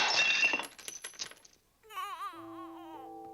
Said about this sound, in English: she hit her piggy bank, and it fell with a loud crash to the floor.